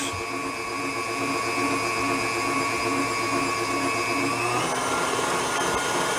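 Electric hand mixer whirring steadily through rum cake batter made from boxed cake mix and vanilla pudding, a loud continuous motor whine whose pitch shifts near the end as the beaters dig in.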